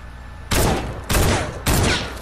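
Thermal scoped assault rifle in Fortnite firing full auto: three loud, dense bursts of rapid gunfire, each about half a second long, separated by brief pauses, with no talking.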